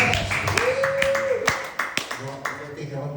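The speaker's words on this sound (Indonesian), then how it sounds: "Tepuk tangan kemuliaan." A church congregation claps in scattered, uneven bursts while music plays underneath, and a voice speaks over the applause.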